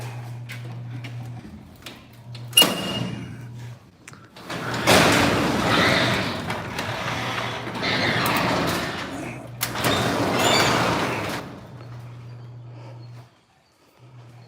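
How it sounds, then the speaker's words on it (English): A garage door is rolled open with a long metallic rumble and rattle in several pushes. A steady low hum sits underneath, and there is a sharp clank near the start and a quieter stretch at the end. "I'm gonna open this door up."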